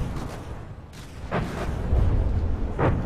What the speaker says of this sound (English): the nuclear torpedo just got hit by friendly fire